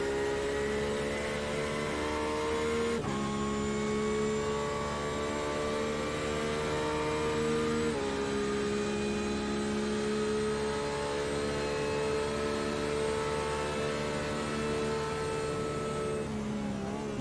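A GT3 race car engine in a sim racing game at Daytona plays as a loud, steady, harmonic drone. The pitch dips briefly twice as the driver lifts off the throttle, then the engine settles back into a sustained tone.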